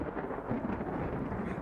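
A rumbling thunderstorm in a video game rolls on steadily as a dense, broadband roar with no breaks, loud and continuous with no voices.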